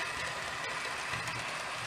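Model Class 350 train rolling past on the layout, a steady rumbling rail noise at moderate level with faint rhythmic clicks, no voices.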